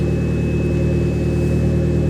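A BMW E36 cabriolet's turbocharged 1.8-litre M43 four-cylinder engine running close by, a loud, steady droning hum that holds constant with no rise or fall in pitch.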